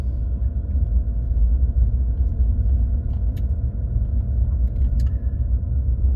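Car driving slowly around car lots at night: a steady, loud low rumble of engine and road noise inside the vehicle, continuous throughout with a couple of faint ticks.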